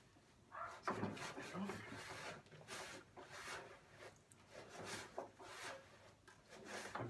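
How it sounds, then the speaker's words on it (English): Repeated rasping scrapes of a tool working grease and burnt fat off the underside edge of an outdoor BBQ grill, a steady series of rough strokes at close range with no talk. "Going to scrape this under edge as well."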